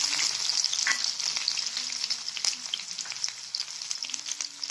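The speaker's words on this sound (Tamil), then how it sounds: "நல்லா பொரிச்சதுக்கப்புறம் வெங்காயம் சேர்த்துக்கலாம்" Onions frying in hot oil after a tempering of mustard seeds, urad dal and cumin, a continuous close sizzle with light crackles and stirring, no voices.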